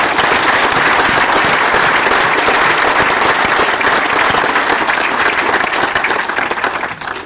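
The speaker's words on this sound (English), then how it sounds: "So if we could give them a big round of applause" A large audience at a Perry Tech fall morning graduation claps loudly and steadily for the graduates, a dense sustained roar of applause that fades at the end.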